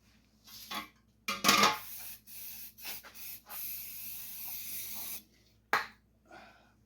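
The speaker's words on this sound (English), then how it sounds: "Brake clean, wonderful stuff." Several hissing bursts of aerosol brake cleaner sprayed onto parts of a 1951 Chevrolet truck, short spurts followed by one long sustained spray and a final quick burst, close and fairly quiet.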